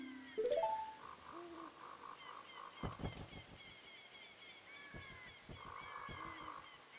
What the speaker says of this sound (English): Why are there seagulls?